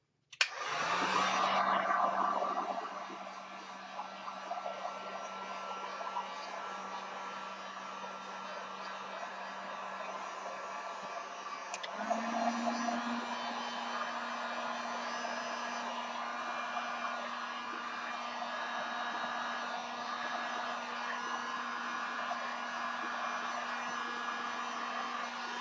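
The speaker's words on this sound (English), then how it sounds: "Now for the heat gun." A heat gun blows steadily over a resin pour with golden ribbons and roses, starting with a loud burst, then a continuous close whooshing hum with a constant tone that shifts higher at about twelve seconds and runs on alone.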